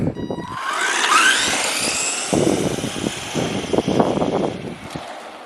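An RC car fitted with a new 35T motor runs outdoors, its electric motor whining up into a loud rising pitch and holding it, with bursts of tyre and surface noise as it speeds past close by.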